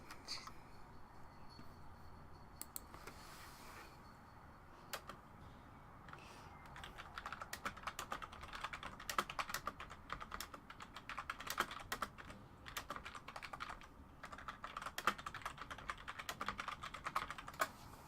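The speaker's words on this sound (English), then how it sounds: "So I got me tapping along on my keyboard." Clicks from a computer keyboard during a doodle livestream, faint and close, in irregular bursts that grow busier after a quieter start.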